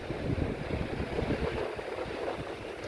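Strong wind buffets the microphone in a constant roar with low rumbling gusts, no voices present.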